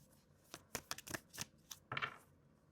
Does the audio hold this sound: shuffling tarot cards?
yes